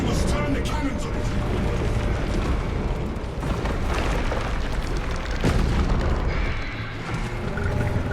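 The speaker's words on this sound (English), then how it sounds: "We must turn the cannons on it." Heavy cannon fire in the video game Warhammer 40,000 Space Marine 2, a dense, continuous rumble of booming explosions and blasts, loud and close throughout with no clear gaps.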